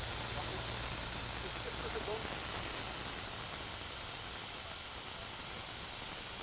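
Air hisses steadily out of a 4x4 tire valve as the tire deflates, a constant bright rushing hiss heard close up, with a faint low rumble at the start.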